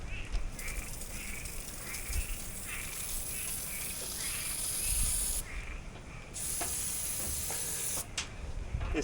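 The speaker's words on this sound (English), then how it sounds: "Red and tacky spray grease." Red tacky grease sprays from an aerosol can in a long, steady hiss with a couple of brief breaks, close to the microphone over a noisy outdoor background during a hurricane.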